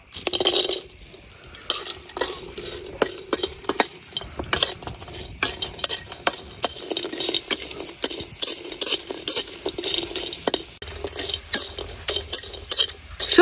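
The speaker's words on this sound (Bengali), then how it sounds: "এখন শুটকি গুলা ভাজে নিয়াম।" Dried fish (shutki) dry-frying in a pan without oil, with steady stirring and scraping of a spatula against the pan, frequent clinks and a light sizzle, close and loud with no talking.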